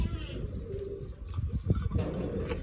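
Pigeons coo and chirp repeatedly in a rhythmic series, fairly close, over a busy low rumble with some fluttering and handling noise.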